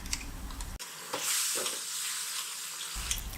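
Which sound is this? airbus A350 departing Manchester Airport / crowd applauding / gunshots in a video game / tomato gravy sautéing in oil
tomato gravy sautéing in oil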